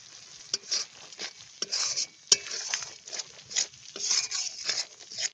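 Green chillies and garam masala fry in hot oil, giving a steady soft sizzle broken by repeated scraping and clinking of a spoon stirring in the pan, close and fairly quiet.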